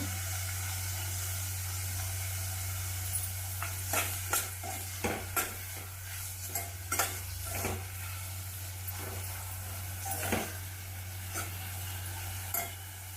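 Onions sauté with salt in a pan while making vegetable rava upma, a low steady sizzle punctuated by repeated scraping stirs of a spoon, close and moderately quiet with a constant background hum.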